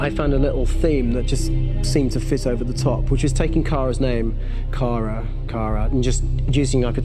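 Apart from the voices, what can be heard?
No everyday noise stands out behind the speech.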